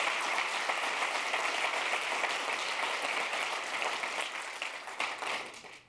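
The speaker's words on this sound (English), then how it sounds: "While I appreciate your applause" Keynote audience at a Visual Studio 2015 developer event applauds in a broad, even wash of clapping that stays steady throughout and then fades out toward the end.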